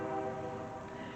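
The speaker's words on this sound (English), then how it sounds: "there's a train." Outdoors, a train horn sounds as a steady sustained tone over constant wind and rumbling ambience, with no speech.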